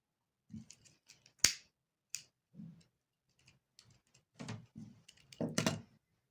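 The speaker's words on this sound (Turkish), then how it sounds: "ipimi kestik hanımlar" Scissors snip through crochet yarn in a quiet room, a sharp close cut followed by a few faint small clicks and rustles of handling.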